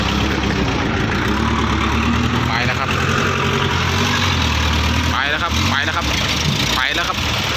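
An off-road vehicle with low/high gear rumbles steadily nearby with a deep engine drone, while several people talk over it.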